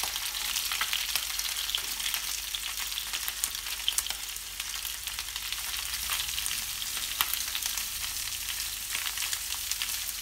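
Garlic and shallots frying in a pan, a steady bright sizzle holding evenly throughout with scattered small crackles and no talk.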